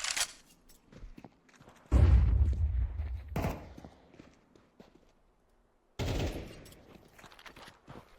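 Gunfire from AK rifles and MAC-10s against pistols in a Counter-Strike match, heard as a loud burst of rapid shots followed by quieter clicks and a second burst of fire, with no talking.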